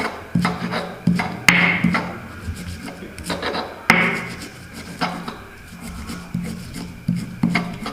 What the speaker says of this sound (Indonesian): Kalau di perkotaan biasanya tidak punya ulekan seperti ini ya, ini bisa ditumbuk halus ya.